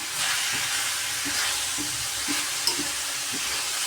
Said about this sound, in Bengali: ভালোভাবে নেড়ে দিব।